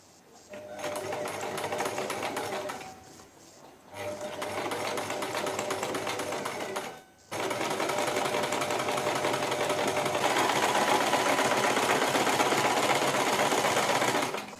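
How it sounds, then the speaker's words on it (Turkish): Sewing machine stitching strips of old denim together for a rag rug, running in three loud sustained bursts with brief pauses between, the last and longest burst steady and close. "şeritlerimizi bu şekilde hazırladıktan sonra dikmeye başlayabiliriz."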